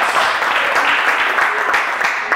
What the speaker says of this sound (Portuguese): Aplauda o Senhor, dê glória a Deus